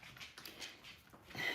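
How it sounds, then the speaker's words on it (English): Light clicking of a dog's toenails on a household floor as she wanders the house, soft scattered taps at a fairly faint, moderate distance with no talk. "You can hear my dog's toenails on the floor."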